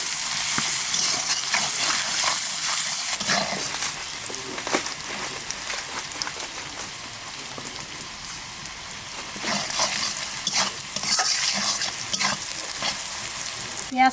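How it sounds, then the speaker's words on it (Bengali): Onions with salt and turmeric frying in a pan: close, steady sizzling with stirring scrapes, louder at the start and swelling again toward the end. "এবার পেঁয়াজটাকে ভালো করে ভেজে নেব।"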